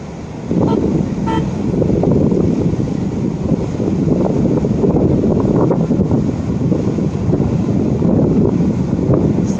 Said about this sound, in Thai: ลมก็ค่อนข้างแรงนะคะ